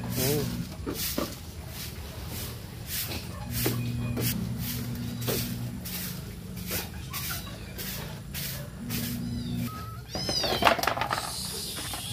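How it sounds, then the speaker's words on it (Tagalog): Several pet cats meow repeatedly and eagerly before feeding, overlapping close-up cries, while a person talks over them throughout. "excited na po ang mga alaga kong pusa para sa kanilang pong pagkain"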